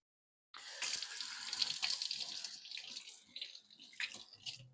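Water runs from a kitchen tap as tomatoes are rinsed under it, a steady close splashing hiss that starts abruptly and shifts in tone as the stream hits the fruit and hands.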